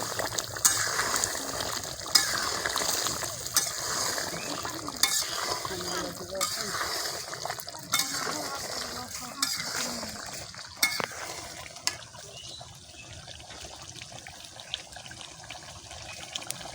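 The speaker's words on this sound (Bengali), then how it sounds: "দেখি এই কষানোর সময় হয়ে গেছে" Country chicken curry with whole onions is stirred and sautéed in a pan, giving a soft, continuous sizzle with repeated scraping strokes of the spoon. The sound is near and moderate, and no one speaks.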